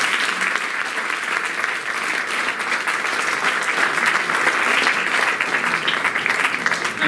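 An audience at a 50th-anniversary celebration of a blood donors' association in Gottolengo gives sustained applause, a dense, even roar of clapping that stays loud and steady from start to finish.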